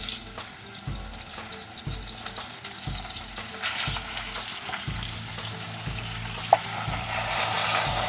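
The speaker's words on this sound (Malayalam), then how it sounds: "നമുക്കപ്പോൾ ചിക്കൻ പീസസ് ഇട്ട് കൊടുക്കാം." Chicken pieces are dropped into a hot pan with green chillies for a chicken curry and fry with a loud, continuous sizzle. Stirring scrapes and clatters recur throughout, and the frying grows brighter toward the end.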